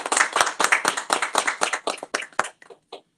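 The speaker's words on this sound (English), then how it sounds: "I clap with his arrival in the room." A small group of people clapping to welcome an honored guest into the room, a quick steady burst of applause that trails off into a few scattered claps after about three seconds.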